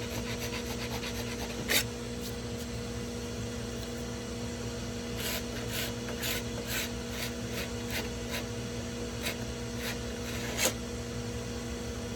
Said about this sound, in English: I'm only lightly scraping across the surface just to make sure that I've got all the finish